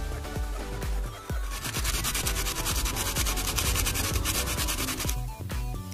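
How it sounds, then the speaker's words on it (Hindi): A metal washer is rubbed back and forth on sandpaper to thin it, making a steady, loud, rhythmic gritty scraping that continues without pause for several seconds. "इसको पहले हम सैंड पेपर के ऊपर घिस के हम इसको पतली कर लेते हैं।"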